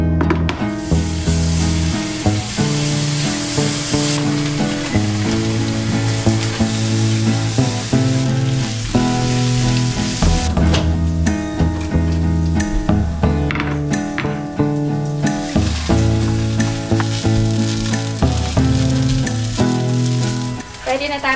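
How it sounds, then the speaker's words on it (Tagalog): Garlic rice fries in a pan, a loud, continuous sizzle with scraping stir strokes throughout, heard alone with music playing underneath. "Magluluto din ako ng garlic rice."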